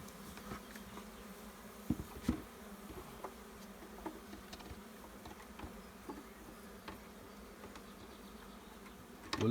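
Steady buzzing of bees around a small hive holding some twenty thousand bees, a continuous close hum with individual bees zipping past the microphone.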